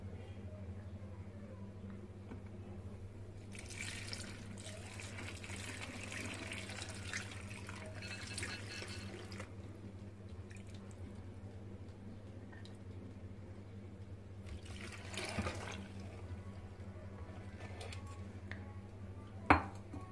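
Water running into a glass jar of homemade pickles with garlic cloves: a soft steady pour under faint kitchen hum, with a few louder splashing bursts and a small clink near the end.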